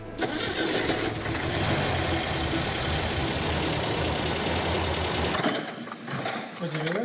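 A classic MGB engine runs loud and close with an ignition misfire: one cylinder is dead from a bad spark plug, and the timing is far too advanced. The uneven roar continues, then cuts out near the end, with someone talking over it.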